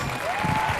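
A studio audience breaks into brief applause on a comedy show, a short close burst of clapping.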